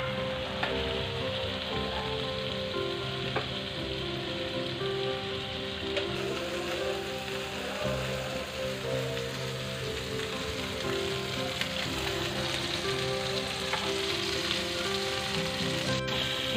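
Mutton seekh kebabs sizzling in ghee on a tawa, a steady, close, crackling fry that continues evenly throughout with faint scattered pops.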